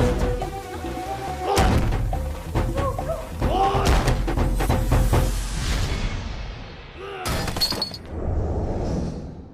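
Loud, close thuds and bangs on a door in a tense Bollywood movie scene, several hard impacts in irregular bursts over background score and voices.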